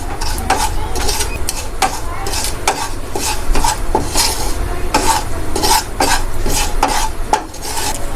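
Spice masala roasting in a hot pan, a loud close sizzle under rapid rhythmic scraping and stirring strokes of a metal spoon against the pan, continuing steadily throughout.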